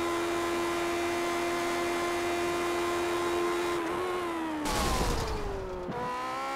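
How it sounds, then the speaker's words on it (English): Race car engine on a Lotus at Circuit Gilles Villeneuve holding a steady high-pitched drone that wavers, then breaks into a rough burst of noise as the engine blows, followed by an uneven, faltering tone. "He going down the back straightaway and his engine blew."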